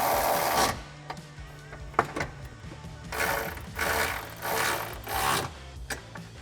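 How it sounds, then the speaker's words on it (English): A ratchet with a 15mm socket tightens the factory nuts on an MBRP Black Series cat-back exhaust for a 2016-2023 Camaro SS, giving bursts of close metallic clicking and rattling with short pauses between strokes. "then we'll take our 15mm socket to tighten these down"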